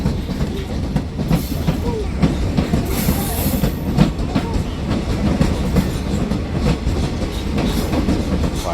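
A train rolls past a platform in the evening, a loud, close, continuous rumble with rhythmic clickety-clack of wheels over rail joints and a faint squeal, steady throughout.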